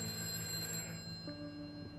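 Telephone rings in the A Way Out video game, a faint electronic tone over a low, humming background, lasting only a moment.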